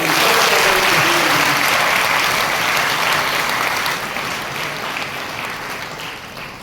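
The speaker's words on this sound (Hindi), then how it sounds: "तो ताली बजाइए।" A church congregation applauds during a Thanksgiving Mass, a dense, steady wash of clapping that fills the hall and slowly fades toward the end, with faint voices underneath.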